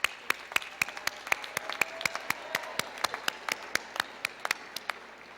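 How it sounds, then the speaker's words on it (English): A commencement audience at the University of Maine at Farmington gives a round of applause, heard as fairly quiet, distinct, sparse claps in a loose irregular rhythm that sound thin and slightly distant. "Give all of those across campus and here in other venues a deserved round of applause"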